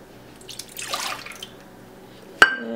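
Milk pours into a measuring cup with a brief liquid gurgle near the middle, followed by a sharp clink of the cup or container close by.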